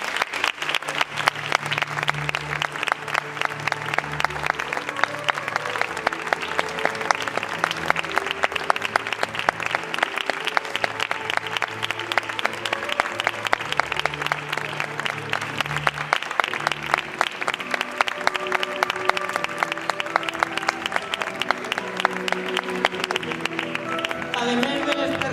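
A long, sustained round of audience applause at a 2019 Miracle del Mocadoret performance, with dense clapping and a faint musical tone lasting under it throughout.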